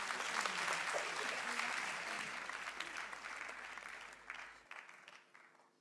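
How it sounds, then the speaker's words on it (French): Sustained audience applause at an awards ceremony, a steady wash of many hands clapping that slowly thins out toward the end, fairly distant and without voices. "vos applaudissements"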